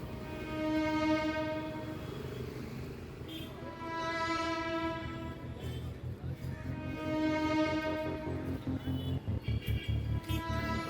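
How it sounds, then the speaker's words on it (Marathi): Steady, loud traffic roar in Byculla, Mumbai, with repeated vehicle horns blaring over it, some long and sustained, others short bursts near the end. "इथे ट्रॅफिक एकदम कंटिन्यू ट्रॅफिक आहे कंटिन्यू गाड्यांचे हॉर्न"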